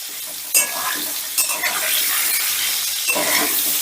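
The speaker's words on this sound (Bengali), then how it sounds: "এবারে গ্যাসের আস্তা বাড়িয়ে দিয়ে আমি কুমড়োগুলোকে বেশ লাল লাল করে ভেজে নেব" Pumpkin pieces fry on high heat in a pan, a steady sizzle broken by a few sharp scrapes and clinks of a spatula stirring; close and fairly loud, with no talking.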